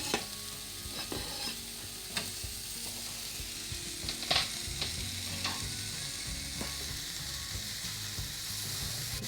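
Finely chopped methi (fenugreek) leaves stirred into hot oil with onion in a pan, a steady sizzle broken by scraping stirs and clinks of the spatula, close and fairly quiet, with no talking.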